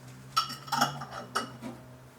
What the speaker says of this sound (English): we're gonna stir to combine and to dissolve the cane sugar and the tamarindo paste